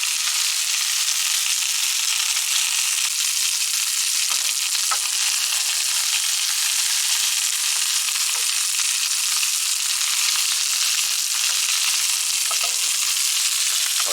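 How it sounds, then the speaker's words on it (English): Onions sizzle steadily in a hot pan beside steak, a dense, even hiss of frying that runs close and loud throughout with no pauses. "So the onion's starting to colour nicely, just a little bit."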